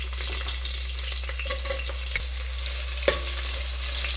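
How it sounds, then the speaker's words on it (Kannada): Onions sizzle steadily in a hot pan for a mushroom biryani, a constant frying hiss with a few soft clicks of stirring and a low background hum. "ನೆಕ್ಸ್ಟು ಈರುಳ್ಳಿ ಹಾಕ್ಕೊಂಡು ಫ್ರೈ ಮಾಡ್ಕೊಳ್ಳಿ."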